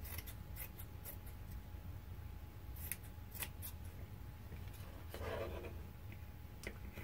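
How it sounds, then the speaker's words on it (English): Scissors cut apart a T-shirt along its side seams, giving quiet, repeated snips and fabric rustles at an irregular rhythm over a soft background hum. "Exposing the side seams and cutting straight up."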